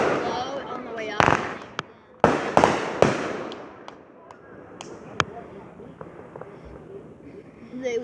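Fourth of July fireworks burst in a rapid series of sharp, loud booms and crackles, some near and some more distant, with people talking and exclaiming between the blasts.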